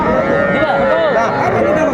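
A young bull calf at a Cumilla cattle market gives a loud, close, drawn-out moo lasting about two seconds, with market chatter faint underneath.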